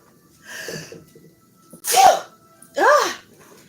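Three sharp sneezes in a row, close and loud, each a quick burst separated by short pauses.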